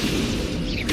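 Incendio fire spell cast in the Hogwarts Legacy video game, a loud, dense burst of roaring, crackling fire effect that fills the short moment with no talk over it.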